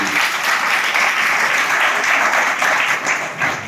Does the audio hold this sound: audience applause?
yes